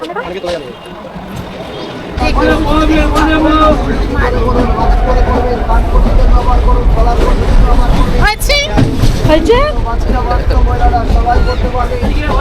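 A passenger train runs with a steady low rumble, and people talk loudly close by over the continuous noise.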